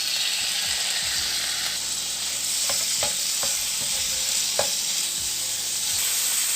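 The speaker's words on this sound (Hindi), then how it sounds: "अब हम चिकन को फ्राई करेंगे" Chicken frying in hot oil in a pan, giving a steady, close sizzle with a few sharp clicks and scrapes from stirring; no one speaks.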